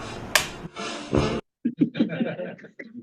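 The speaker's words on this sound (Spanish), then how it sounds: "I claqueta." A film clapperboard snaps shut on set for a prehistory-myths scene take, giving a sharp, near crack that stands alone between stretches of quiet, with voices talking briefly before and after it.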